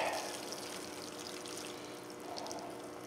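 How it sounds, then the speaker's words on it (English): Water poured generously over soil where onion seeds have just been planted, a steady close trickle and splash running without a break. "Just water the heck out of it."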